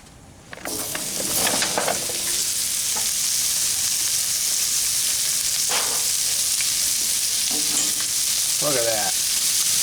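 Onion with green, red and yellow peppers sizzle on a Blackstone griddle set to low. A steady, loud frying hiss fills the whole stretch after a brief quiet start, with a few scraping and clattering stir sounds on top.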